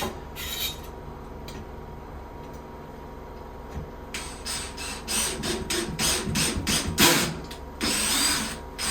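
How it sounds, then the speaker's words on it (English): A power drill grinds and ratchets in short bursts as it drives a screw to install a grab bar, the clutch clicking rapidly near the end, close up. "You want to use a drill that has a clutch on it."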